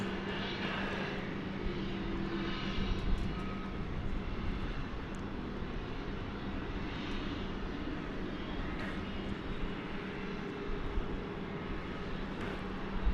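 A long-haul airliner departs Dallas Fort Worth Airport for Melbourne, its engines a steady, broad roar heard from a distance that holds evenly throughout with no voices.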